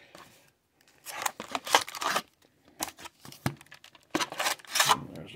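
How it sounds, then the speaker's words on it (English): 2022-23 Upper Deck O-Pee-Chee hockey card packs get torn open in quick succession, with close, bursty foil ripping and crinkling that comes in repeated clusters and short pauses between. "we're going to try to speed rip these if I can get them out of the box"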